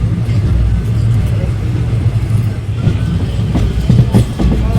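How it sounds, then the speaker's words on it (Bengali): A local train pulls out of Chakdah station on the Ranaghat–Sealdah line, a loud continuous rumble with rhythmic clatter of wheels, close and dominant throughout. "এখন চাকদাহ স্টেশন থেকে ট্রেন ছেড়ে চলে যাচ্ছে।"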